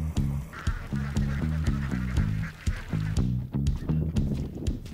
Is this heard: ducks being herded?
yes